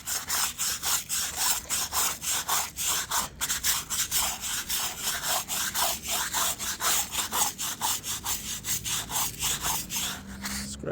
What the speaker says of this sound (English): I'll use the broom. Then you'll just scrub them.